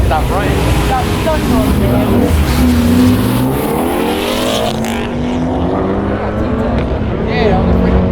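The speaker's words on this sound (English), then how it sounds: "So now we're gonna race an Evo and see if we can get in the 12s" A 2007 Lexus IS 350 drag racing a Mitsubishi Evo, engines droning loud and steady with rising revs through the run, voices talking over the roar.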